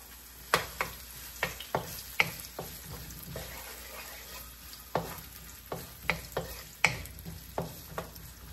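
Onion hitting hot oil and frying for ginataang monggo, giving a low crackling sizzle broken by repeated sharp clinks of a utensil stirring in the pan, close and quiet with no talk.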